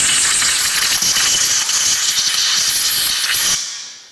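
Compressed air blasting over the brakes of a Can-Am Maverick X3 during cleaning, a loud, close, steady hiss that cuts off abruptly near the end.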